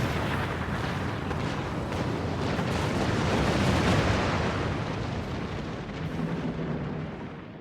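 Sustained barrage of booming weapon fire and explosions in a Star Trek Online space battle, dense and loud throughout with no pauses, as torpedo launchers are brought to bear against a Borg assimilator ship.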